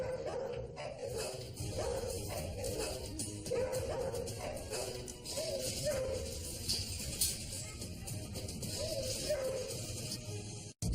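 Dogs bark, yip and whimper in an animal hospital as another dog is brought near a pit bull, a continuous busy stretch of close yelps and whines over heavy background noise.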